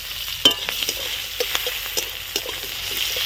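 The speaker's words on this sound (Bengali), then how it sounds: "পেঁয়াজগুলো একটু ভাজা ভাজা করে নেব" Onions fry with a soft steady sizzle in oil with cumin and bay leaf while a spoon scrapes and taps the pan in irregular strokes close by.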